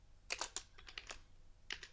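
Fingers type HTML code on a computer keyboard in a run of close, quick key clicks, some clustered and some spaced apart, with no talking.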